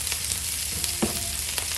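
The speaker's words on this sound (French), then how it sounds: "L'oignon, ça continue à cuire" Onions with cloves frying in a pan for rougail saucisse, giving a steady, close crackling sizzle with a faint stir or tap partway through, and no talking.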